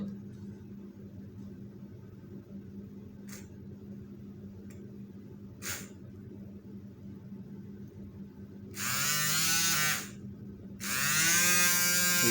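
Small 4-volt DC motor spinning in a homemade free energy generator, a faint steady electric buzz with a low hum and occasional ticks, swelling into two louder whirring bursts near the end.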